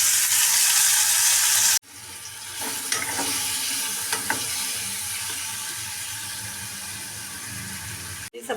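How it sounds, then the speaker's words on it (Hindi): Hot oil tadka sizzling and crackling in a pan for cauliflower curry during a festival meal, a steady loud hiss with scattered pops after a brief break, no talking. "यहाँ पे लग रहा है तड़का, मतलब गोभी की सब्ज़ी बनाई जा रही है।"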